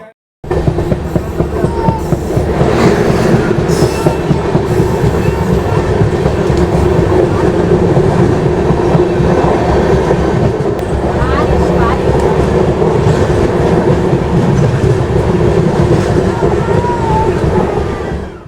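The Kongu Express passenger train rolls steadily along the tracks near Coimbatore, a continuous low rumble with rhythmic clickety-clack heard from inside a carriage.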